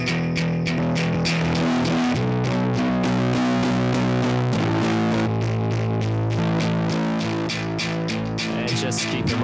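An electric guitar plays power chords through a guitar rig's distortion effects, with loud, dense, sustained crunchy chords struck in a steady rhythm and no talk.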